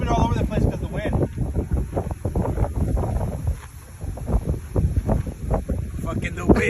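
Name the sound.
wind blowing into the microphone outdoors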